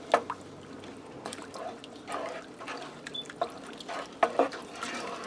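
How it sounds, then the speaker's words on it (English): Turnip soup is stirred in a pot in an air fryer grill combo, with faint liquid sloshes and soft scraping clinks scattered irregularly over a quiet kitchen background. "I'm going to stir this up."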